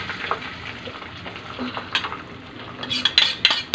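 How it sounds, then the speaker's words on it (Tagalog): Two large seasoned eggs fry in a pan with a soft, steady sizzle, while sharper clinks of a utensil against the pan cluster toward the end. "Tapos fry muna natin ang ating egg."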